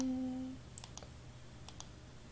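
Computer mouse clicks while working in Cricut Design Space: two pairs of soft, quick clicks, faint and close, after a brief tone fades out.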